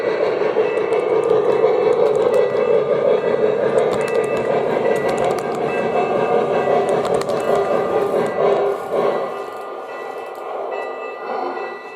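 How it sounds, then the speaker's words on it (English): A Jersey Central O gauge model train with an excursion passenger set runs along its track with a steady mechanical rumble and rhythmic clicking of wheels over rail joints, loud and close before dropping to a quieter hum near the end. "We'll bring the train around and we'll take a look at my Jersey Central"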